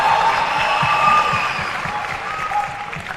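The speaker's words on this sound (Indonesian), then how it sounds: "Tepuk tangan untuk kita semua." Audience applause at a student council gathering in Jakarta, a dense, steady patter of many hands clapping throughout, moderately loud and continuous with a faint crowd murmur beneath.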